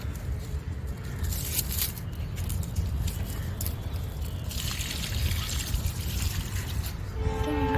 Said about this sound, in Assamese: আৰু ইফালে পানী দি আছে